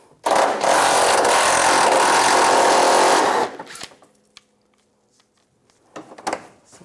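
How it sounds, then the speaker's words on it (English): Power tool with a 10mm socket backing bolts out of a 2004-2009 Toyota Prius headlight area, one loud continuous buzzing burst of about three seconds, then near quiet with small clinks. "Using a 10mm socket, take these bolts out."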